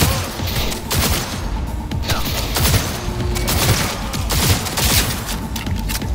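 Rapid pistol gunfire in the video game Cyberpunk 2077, loud dense volleys of shots cracking continuously with booming impacts throughout.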